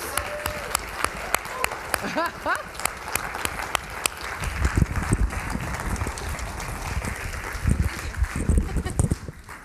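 Applause from a church congregation at a Sunday service rises across the space, dense patter of many hands growing louder midway, with a few voices heard over it.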